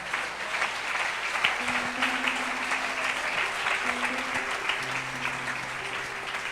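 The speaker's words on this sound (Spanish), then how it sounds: "Si usted quiere, déle ese aplauso a este rey." Sustained applause from a church congregation fills the room for several seconds, a steady dense clatter of many hands with organ or keyboard notes sounding faintly underneath.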